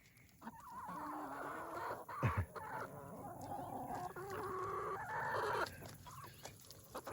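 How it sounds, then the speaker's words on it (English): Backyard laying hens cluck and squawk close by in a continuous busy chatter with a few sharper calls, quiet overall with no talk. "Chickies are doing good"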